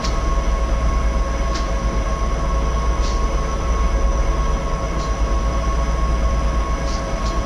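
A Southern Pacific SD45 diesel locomotive on Donner Pass in Train Simulator 2015, a steady, dense rumble of engine and rolling stock with faint periodic clicks, loud and continuous with no talking.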